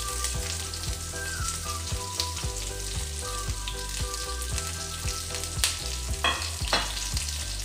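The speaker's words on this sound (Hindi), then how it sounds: "इसको हम भून लेंगे, हल्का सा ट्रांसपेरेंट हो जाए तब तक हम भूनेंगे।" Long-sliced onion frying in a pan with curry leaves and star anise, a steady loud sizzle with occasional scraping stirs, close up, over a repeating low background thump, no speech.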